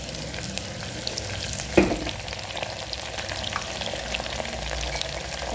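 Potatoes fry in a pan while cooking lentil khichdi, giving a constant soft sizzle with one brief stir clatter near the start.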